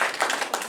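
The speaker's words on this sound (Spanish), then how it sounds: "es un aplauso para el doctor." Brief burst of audience clapping at a talk, a few quick claps heard close and fairly faint, lasting under a second.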